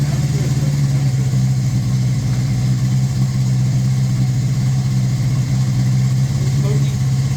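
A 1981 Honda CB650 motorcycle with freshly rebuilt Keihin VB carburetors idles with the choke fully on, a loud, steady, close-up engine drone with a low pulsing hum, while people talk over it.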